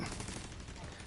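Turret gunfire in a video game, a continuous stream of rapid shots, fairly faint and dense across a brief moment.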